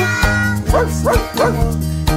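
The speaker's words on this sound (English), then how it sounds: "Goodbye, dog." A dog barks in a children's farm animal song, three short yips in quick succession over the steady musical backing.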